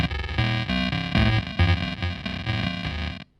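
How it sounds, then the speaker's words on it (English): A Sonicake Wave Crush bit-crusher pedal on its gramophone setting, processing a guitar into a distorted, lo-fi degraded tone; strummed chords ring out in a rhythmic series before cutting off abruptly. "So now I'm on the gramophone setting."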